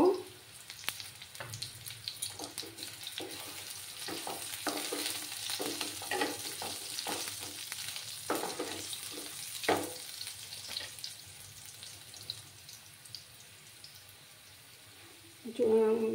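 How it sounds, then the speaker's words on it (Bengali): Cut potatoes fry quietly in a pan over low heat, a soft continuous sizzle broken by light clinks and stirring knocks, with a louder clatter at the very end. "আলুগুলো সামান্য একটু ভাজা ভাজা করে নেব।"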